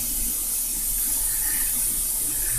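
Water flowing through a residential sewer pipe, a steady hissing rush with no break, heard up close inside the pipe.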